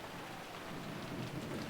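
Steady rain pours down in a scene from the visual novel game Umineko When They Cry, a dense, even hiss with low rumbling underneath that carries on alone without any voices for the whole stretch.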